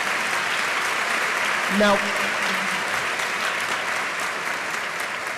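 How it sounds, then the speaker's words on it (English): A lecture audience applauds, an even wash of many hands clapping throughout, with a brief spoken word from a man near the start over the clapping. "Could we have a round of applause for our many co-sponsors?"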